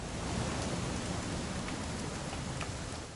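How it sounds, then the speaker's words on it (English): Rain falls in the video game What Remains of Edith Finch as a dense, even hiss of drops that holds steady and fades slightly at the very end. "It's gonna rain the whole weekend, isn't it?"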